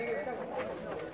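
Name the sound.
Ferozpuri pigeon cooing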